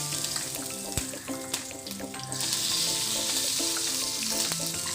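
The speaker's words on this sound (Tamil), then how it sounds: "இப்போ எண்ணெய் சூடாகிடுச்சு, கடுகு போட்டு தாளிச்சிடலாம்." Mustard seeds sizzle and crackle in hot oil for tempering, a close, steady frying hiss with scattered pops that swells louder partway through, with no voices.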